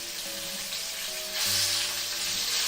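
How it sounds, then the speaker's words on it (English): Steady, crackling sizzle of ahi tuna frying in a hot pan, continuous and close, growing a little louder partway through. "The ahi is frying real nice."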